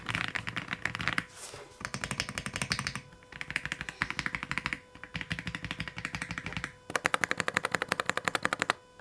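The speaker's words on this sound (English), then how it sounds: "this thing has pre-lubed Reaper switches, which make for the most satisfying creamy sound while typing" Rapid clacky typing on a mechanical keyboard with pre-lubed Reaper switches comes in several bursts separated by short pauses, close and crisp, with no talking.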